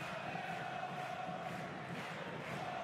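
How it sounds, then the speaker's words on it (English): A basketball arena crowd roars steadily during a European professional game, a dense continuous wash of voices and cheering, fairly distant and muffled, with no distinct individual sounds. "The crowd have well and truly found their voice."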